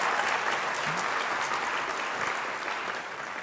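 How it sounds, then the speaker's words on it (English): An audience at a political speech gives a dense, sustained round of applause. The clapping is loud and continuous for several seconds, with no talk over it, and tapers slightly at the end. "Give him a round of applause."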